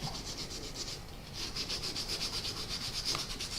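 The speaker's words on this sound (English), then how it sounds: "and start sanding" Steady wet sanding of a surface kept wet with mild phosphoric acid conditioner, heard as close, rhythmic rubbing strokes with a gritty scratch that continue throughout without talk.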